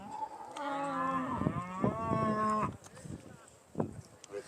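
Cattle at the Great Yorkshire Show, where Aberdeen Angus, Longhorn and Beef Shorthorn breeds are being judged, give a long, loud, drawn-out moo fairly close by, followed by quieter shed noises and distant bumps.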